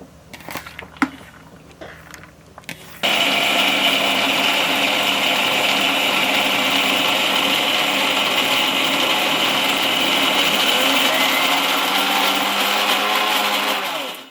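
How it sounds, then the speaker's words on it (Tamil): A mixer grinder grinds roasted dal with rock salt for paruppu thuvayal. A few seconds of light clattering come first, then a loud, steady, close whirring grind runs continuously and cuts off at the end. "கல்லுப்பு சேர்த்துட்டு இதை முதல்ல அரைச்சிப்போம்"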